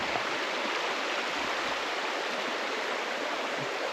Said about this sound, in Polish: Znajdujemy się przy największym źródle w Finlandii.